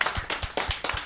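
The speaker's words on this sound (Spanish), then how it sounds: "les vamos a dar un aplauso" An audience claps together in a studio during a social television program, giving a short, brisk run of close, sharp hand claps in an uneven rhythm.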